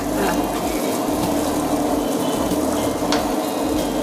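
A steady, wet churning hum of a wet grinder grinding urad dal batter for vada, continuous and close, with soft sloshing and no voices.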